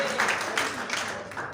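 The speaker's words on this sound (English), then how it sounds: "A round of applause for me." A faint round of audience applause at a live activism forum, with scattered, thin claps from a small crowd in a short, quiet burst.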